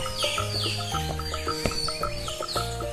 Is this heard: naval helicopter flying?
no